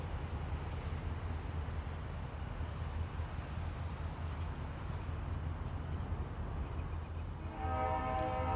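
Pan Am and NBS diesel locomotives, rated at 3,000 horsepower each, rumble slowly onto a siding with a heavy continuous low drone, and a horn blast sounds near the end.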